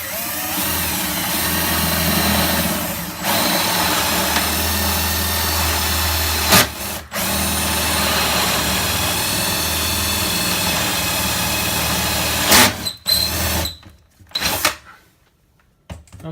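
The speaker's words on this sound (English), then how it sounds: "I'm just going to drill as straight as I can," Power drill boring a hole through a cabinet corner, a loud steady whirring drone with brief pauses and restarts, ending in short bursts and stops.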